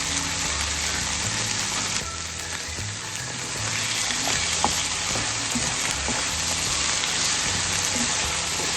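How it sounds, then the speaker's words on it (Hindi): Chicken liver (kaleji) frying on a tawa, a loud, dense, continuous sizzle like heavy rain, heard close up and without a break throughout. "फ्राई करने में दोनों साइड से। चिकन की कलेजी जल्दी पक जाती है।"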